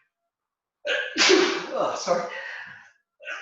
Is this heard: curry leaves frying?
no